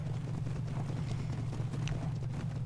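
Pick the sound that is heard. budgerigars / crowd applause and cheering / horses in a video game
horses in a video game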